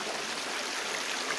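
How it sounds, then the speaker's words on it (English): Water at Tada waterfall rushing in a steady, broadband wash, continuous and fairly close, with no voices over it. "this side the water will flow down"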